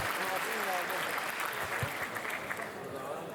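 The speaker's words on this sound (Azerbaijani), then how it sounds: "Və nağarada Ruhullah Dadaşov, alqışlayaq zəhmət olmasa, gözəl alqışlarla." An audience at a majlis gathering applauds for the nagara drummers, dense continuous clapping that fills the room and fades slightly, while an announcer speaks over it.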